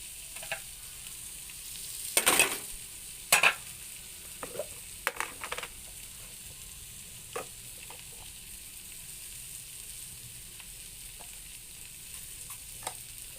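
A spoon stirs sardine and egg thoran with grated coconut and pepper in a pan, giving a soft steady sizzle with a few sharp scraping clacks against the pan near the start, close and without talking.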